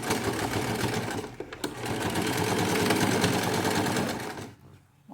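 A sewing machine backstitches a cushion seam with piping, running in a steady, close, loud whir for most of the span with a brief stutter near the start before stopping at the end.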